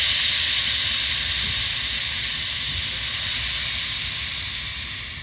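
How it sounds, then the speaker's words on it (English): Air hisses steadily and loudly as pressure is released from the gear oil tank used to refill a 1953 Johnson TN-28 5 HP outboard motor, and the hiss slowly fades over several seconds. "I'm going to release the pressure in my tank."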